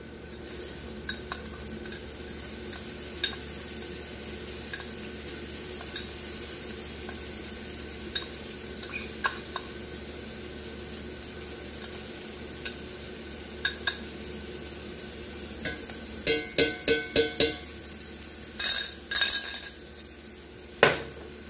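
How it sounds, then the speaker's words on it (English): Shallot and garlic sizzle in a pan under a steady hiss. Toward the end a utensil taps and scrapes in clusters of quick, close clinks as the food is stirred. "put your shallot and garlic in here"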